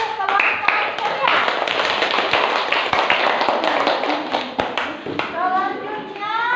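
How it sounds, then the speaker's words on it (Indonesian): Children in a classroom clap for a student group that has just presented, quick sharp claps blending into steady applause, with young voices and an adult speaking during and after it. "tepuk tangan untuk kelompok ceria"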